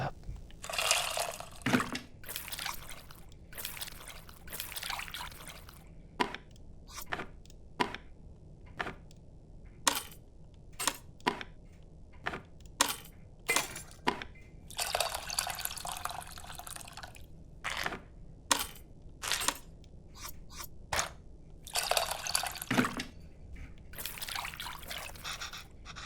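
In the video game Venba, water is poured into a bowl with tamarind, heard as a string of sharp, close drips and small splashes, broken by a few longer bursts of pouring, with no talking.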